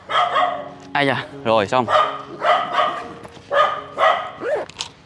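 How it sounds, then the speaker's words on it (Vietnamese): Dog barking close by in an old residential house, a series of loud rough barks and yips mixed with people talking over and between them. "Có một con chó, hình như con chó này là con chó có chó mẹ."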